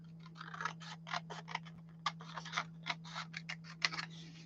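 Scissors cut through card for a craft project with quick, quiet, rhythmic snips close by, over a low steady electrical hum.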